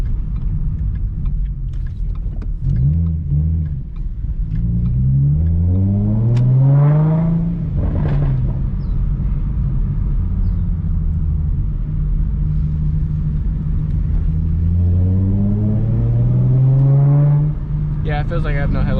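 A Ford Mustang that recently had its water pump replaced is driven, its engine rumbling and climbing through revs in repeated rising surges, loud and close inside the cabin, with a person talking over it.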